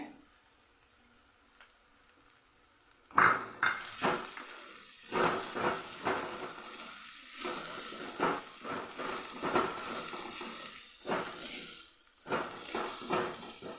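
Garlic sizzles and crackles in a pan with sautéed onion for a winter fresh-turmeric vegetable dish. A faint hiss gives way to loud frying with repeated stirring scrapes throughout.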